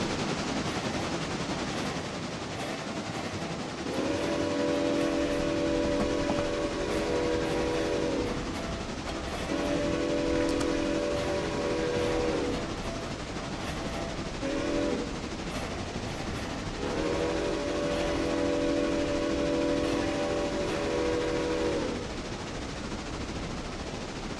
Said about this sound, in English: And I see our passenger train is on his way back to Bryson.